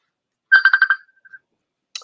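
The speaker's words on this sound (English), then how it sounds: "somebody was trying to call me on the phone" A phone rings with an incoming call, a quick burst of five rapid electronic trills that trails off briefly, then starts again, clear against silence.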